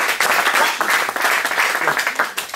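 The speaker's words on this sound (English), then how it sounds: "So a big round of applause from Seattle." A crowd at an idea-pitching event claps loudly for a group of about twenty people from Seattle, a full and even round of applause from many hands that holds steady, then thins slightly at the end.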